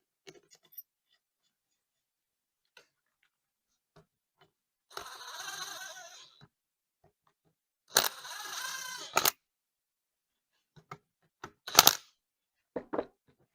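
Bolts on a John Deere two-cylinder power steering worm gear assembly are set back in place and started, with sparse metallic clicks and taps, a couple of short ratcheting or threading bursts, and quiet gaps between.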